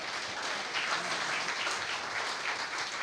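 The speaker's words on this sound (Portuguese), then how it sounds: "Você pode aplaudir o Senhor?" A church congregation applauds together, a soft, even wash of many hands clapping heard from a distance and sustained for a few seconds.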